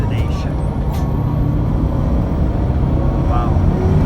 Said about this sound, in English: Here we go, entering the bus station at our destination.